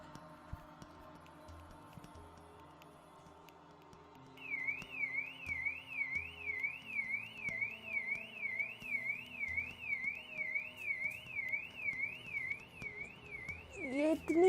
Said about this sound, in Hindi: गाड़ी का अलार्म क्यों बज रहा है?